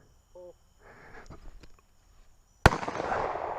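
A shotgun loaded with birdshot fires one sharp, loud blast near the end. A short ringing echo follows, after some faint tones and rustling.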